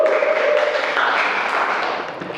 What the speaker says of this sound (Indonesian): Tepuk tangan dong untuk Gia dan Alif